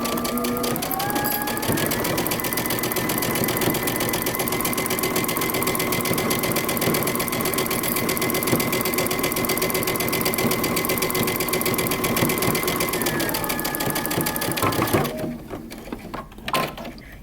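A sewing machine runs steadily at close range, stitching the back facing of a moto jacket for about fifteen seconds with a loud, continuous mechanical whir, then stops, leaving a few faint handling noises.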